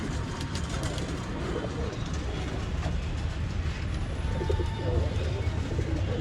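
An old line pigeon, a gold-shaded bird offered for sale in Bangalore, is released and shown, with faint bird calls and movement under a steady, dense background noise.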